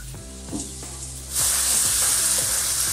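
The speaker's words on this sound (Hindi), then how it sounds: "प्याज भूनेंगे, हल्का भूनेंगे इसे" Onions tossed into a hot pan break into a loud, dense sizzle partway through, after a low rumbling hum with soft clunks; the frying hiss then stays strong and steady, with no talking.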